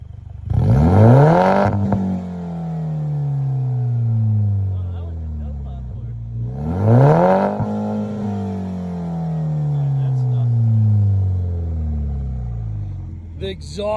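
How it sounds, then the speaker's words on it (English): A car's aftermarket exhaust revs loudly in two big sweeping bursts, each climbing sharply then easing down through a long droning fall, with crackles at the peaks. "The exhaust sounds ridiculous on it."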